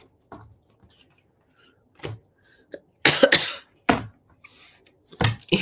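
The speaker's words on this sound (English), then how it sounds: "Listen to me sniff and cough." A person coughs and sniffs indoors in scattered short bursts, with a sharp, louder cluster of coughs midway and a few quieter throat noises between.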